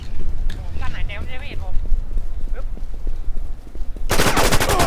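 Rapid automatic gunfire from the War Inc video game rattles loudly in a dense burst near the end, with scattered shots and game sounds before it and a voice talking over the start.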